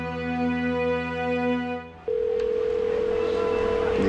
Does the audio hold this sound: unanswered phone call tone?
yes